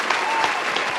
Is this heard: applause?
yes